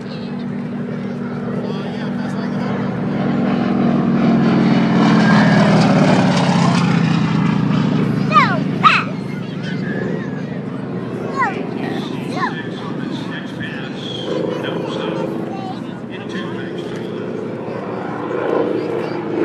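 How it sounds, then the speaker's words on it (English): A propeller plane at an air show roars past, its engine swelling loud to a peak and then fading, followed by quieter droning and distant crowd and ambient noise with people talking. "Here comes the plane again."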